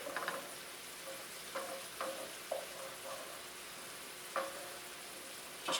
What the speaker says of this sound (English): Just cook that wine down just till it's lovely.